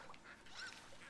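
A duck quacks in the video game Firewatch, a short faint call repeated in a few quick bursts against a soft background hiss.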